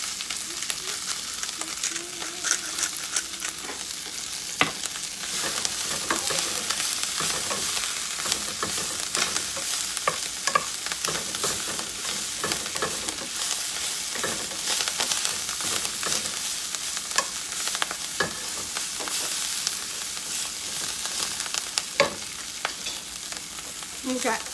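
Chicken, kale and mushrooms fry in a pan with a steady, dense sizzle and crackle, broken by frequent clicks and scrapes of stirring, with no talking.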